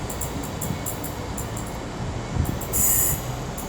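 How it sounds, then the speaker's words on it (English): A Shrewsbury to Birmingham passenger train pulling out of Wolverhampton station, rumbling steadily with high wheel squeal and rail clicks, fairly close. "I think the Shrewsbury to Birmingham service is also going to be departing now as well."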